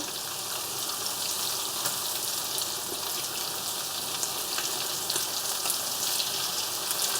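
Gammon and potato patties bound with egg frying in a pan, a steady, dense sizzle with fine crackling spits running evenly throughout, close and fairly loud with no voices.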